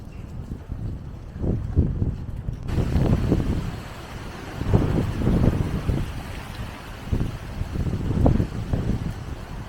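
Wind buffets a microphone outdoors in St Maxime, coming in irregular low rumbling gusts that swell and fade over a steady background, loud and close with no talking.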